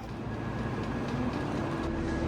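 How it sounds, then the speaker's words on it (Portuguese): Shinkansen bullet trains run at Shin-Osaka station, a continuous loud rail rumble with a faint high whine and no voices. "nessa estação tem Shinkansen saindo e chegando o tempo todo"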